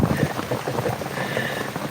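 Steady rain falling, a dense continuous hiss and patter filling the whole stretch at moderate loudness with no voices.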